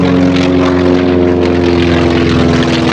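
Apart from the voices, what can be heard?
T-28 Trojan 9-cylinder radial engine airplane flying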